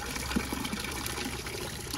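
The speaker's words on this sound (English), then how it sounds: "the water level goes down low and then it starts like blurping a little bit" Water drains from a clogged toilet bowl in a steady, close rushing and trickling wash, with faint gurgles and no voices.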